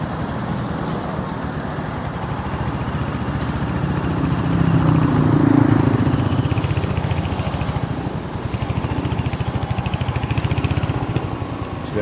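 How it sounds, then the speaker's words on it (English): Road traffic in Cebu City surrounds a Royal Enfield Hunter 350 motorcycle, a steady drone of engines from cars and other vehicles close by, swelling briefly in the middle, with no talk. "Yeah, a little bit of traffic here."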